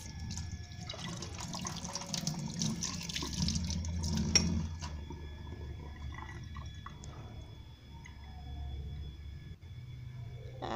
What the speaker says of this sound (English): Then I wash my hands.